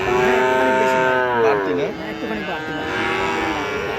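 Cattle moo loudly and close by, long drawn-out lowing calls that overlap one another amid the general bustle of a cattle market.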